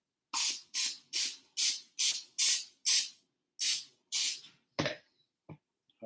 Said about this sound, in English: this is vegetable oil. Okay. And I'm going to spray the pan with this before I put the crust in